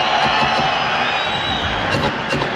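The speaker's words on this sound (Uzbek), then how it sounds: "Suhrobga bir qarsaklar." A loud, dense crowd at a Mangu MMA tournament in Khorezm cheers and whoops for fighter Suhrob, a continuous near roar with shouts rising on top and voices mixed in.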